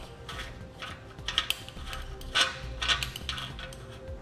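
An oxygen sensor being unscrewed by hand from a ceramic catalytic converter on a 2010 Nissan Altima, faint metallic threading clicks and light scrapes in a few short bursts over a quiet background.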